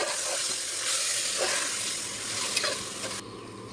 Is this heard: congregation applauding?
no